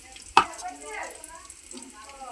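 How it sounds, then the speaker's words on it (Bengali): Onions hit hot oil in a kadai for a chicken and potato dish, giving a sharp initial sizzle followed by a soft frying hiss, quiet and brief. "কড়াইয়ের মধ্যে এখন আমি তেলের মধ্যে পেঁয়াজ দিয়ে দিলাম মুরগিটা রান্না করার জন্য"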